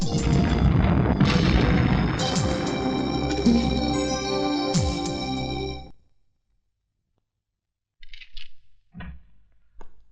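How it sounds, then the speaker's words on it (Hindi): Explosions at a warehouse as a film sound effect: heavy, loud booming blasts with rumbling debris and ringing for about six seconds, then silence and a few faint scattered noises. "यकीन नहीं आता तो अपने गोडाउन के धमाकों की आवाज को सुन"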